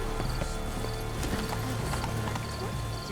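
Horse hooves clip-clop in The Witcher 3: Blood and Wine, a quick, even rhythm of close, loud hoof strikes over a dense background of game music and ambience.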